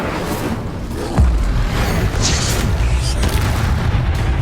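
An Incendio fire spell is cast in Hogwarts Legacy, a deep boom followed by a roaring burst with crackling flare-ups, loud and close.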